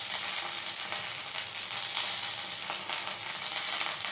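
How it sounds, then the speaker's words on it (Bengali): Okra coated in oil with salt sizzles steadily in a pan for vendi posto, a dense, even hiss that holds at a constant level with no talking. "তেলের সাথে ভেন্ডিটা মেখে নিলাম।"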